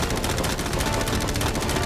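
Machine guns fire rapidly at a yacht, a dense, loud, continuous burst of overlapping shots close by with no pauses and no voices.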